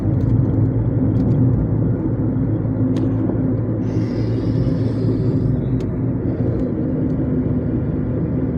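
A Skoda Fabia engine pulling uphill in third gear on a city road, a loud, steady low rumble and drone that fills the whole stretch, heard from inside the car with brief faint clicks and no talking.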